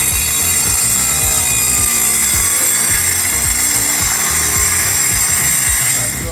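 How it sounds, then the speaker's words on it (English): A Harbor Freight jigsaw cuts a wooden center console piece with a loud, continuous buzzing rasp and rapid reciprocating chatter close by, with no voices. "We'll use our Harbor Freight jigsaw."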